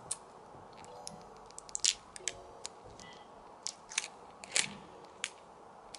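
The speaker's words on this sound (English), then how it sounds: "I guess I should like peel the plastic off maybe" Protective plastic film being peeled off a small acrylic keychain charm, heard close up as a series of sharp crackling ticks and brief rips in irregular bursts, with quiet pauses between them.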